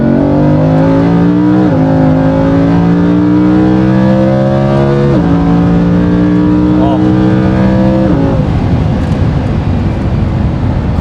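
Lamborghini Huracan V10 with a Supersprint exhaust, valves open, revving loudly up and down in steady climbing pulls and sharp shifts, then the engine note dropping away near the end, close and loud throughout.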